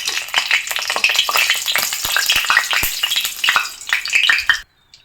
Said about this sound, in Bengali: প্রথমে আমি 2টো শুকনো লঙ্কা দিয়ে দেব। শুকনো লঙ্কাটা ভেজে তুলে নেব আমি।